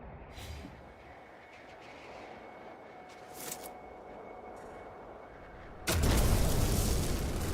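Geology cannon firing in No Man's Sky, a sudden loud, broad roaring blast that bursts in near the end and holds steady, following a long stretch of low rumbling ambience with faint crackles.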